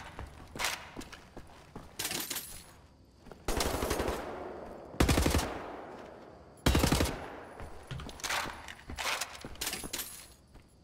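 Heavy gunfire in the shooter game Wolfenstein: The New Order, with loud repeated bursts of automatic shots separated by short pauses, close and punchy, with no talking.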